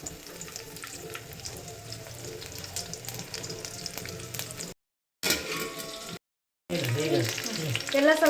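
Cumin, mustard seeds and garlic frying in a pan for a horse gram porridge, a steady close crackling sizzle with stirring scrapes, briefly cut by two silent gaps, then louder frying as the pan resumes.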